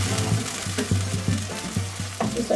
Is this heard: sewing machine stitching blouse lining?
no